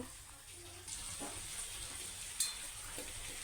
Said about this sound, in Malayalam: ചിക്കൻ വറുത്തെടുത്ത വെളിച്ചെണ്ണയിലേക്ക് സവോളയും പച്ചമുളകും ഇട്ട് കൊടുത്തിട്ടുണ്ട്.